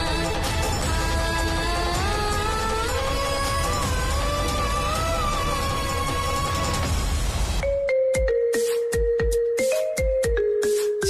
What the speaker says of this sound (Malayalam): ഫോൺ റിങ് ചെയ്യുന്ന കേട്ടില്ലേ?